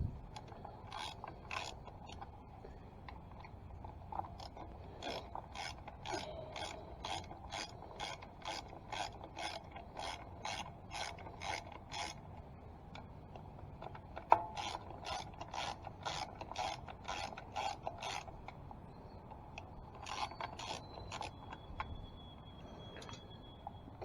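A ratchet wrench clicks rapidly in repeated runs while loosening bolts on a 1996 Harley-Davidson Sportster 1200, crisp and close against a quiet background, with short pauses between bursts.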